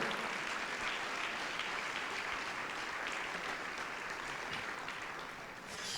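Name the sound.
congregation applause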